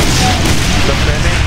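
Gunfire from the Brutal Doom video game, with former-human enemies shooting, comes as a loud, dense, continuous clatter of shots and booms across the whole moment, with no break in the barrage.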